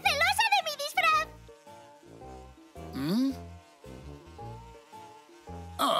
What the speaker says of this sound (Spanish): ¡Una abeja nos persigue por la casa!